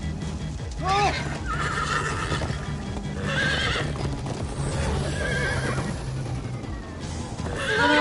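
Several horses in Minecraft: Story Mode whinny in loud bursts over hoofbeats and a rumbling background, with voices talking and shouting across it.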